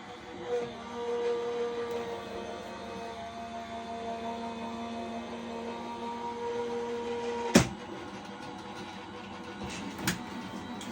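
A card-making embossing machine presses clear plates, a steady mechanical hum and whir running throughout with a couple of sharp clicks or clunks near the end, fairly quiet and close.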